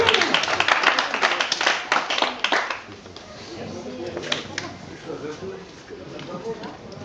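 Audience claps at an aquabike championship award ceremony in Nova Kakhovka, a burst of scattered applause that fades after a few seconds into quieter outdoor ambience with faint voices.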